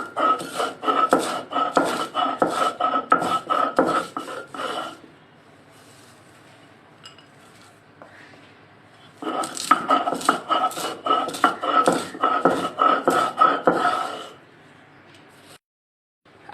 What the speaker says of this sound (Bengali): প্রথম আমি বাদামটাকে একটু গুঁড়ো করে নেব